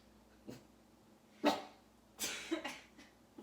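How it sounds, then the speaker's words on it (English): A few short, sharp dog barks or woofs, irregularly spaced, moderately loud against a quiet background. "Please stop barking."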